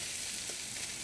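Grated coconut roasts in a pan for a Kerala kootu curry, giving a faint, steady sizzle and crackle with no talking.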